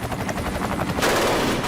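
Gunfire during a school shooting at Columbine, a rapid rattling burst of shots heard amid dense continuous noise, loud and close.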